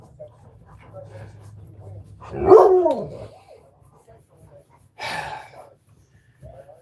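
A happy puppy barks at close range, one loud yelp near the middle and then a shorter bark a few seconds later, with quiet snuffling and background hum in between.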